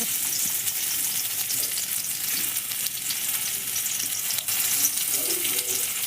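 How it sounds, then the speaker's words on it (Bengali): Boiled Indian gooseberries (amla) fry in a little white oil for pickle, a dense, even sizzle close up with small crackles and faint stirring, steady for the whole stretch; no voices. "অল্প একটু সাদা তেল দিয়ে সিদ্ধ করা ওই যে আমলকিগুলো আছে ওগুলো ভালোভাবে ভেজে নেব"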